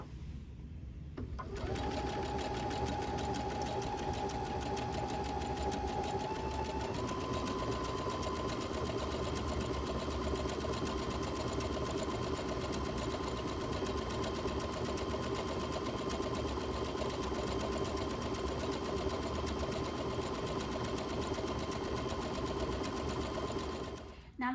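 A sewing machine runs steadily for over twenty seconds, stitching two layers of green felt in a decorative pattern, a close, continuous whirring hum with a slight pitch shift early on and no pauses.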